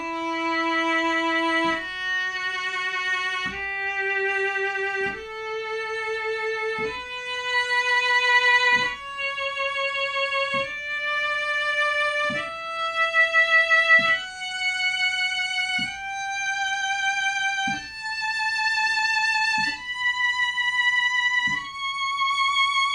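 Bowed violin playing a rising scale from D in third position, a run of clear sustained notes each starting with a soft attack and stepping steadily upward, close and alone with no voices.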